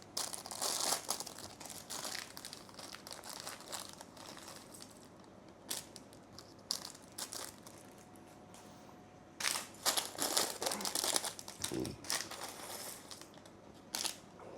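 Small plastic parts bags from a LEGO Star Wars 75377 Invisible Hand set crinkle and crackle as they are handled and torn open, in close, steady rustling bursts with a few louder crunches near the end.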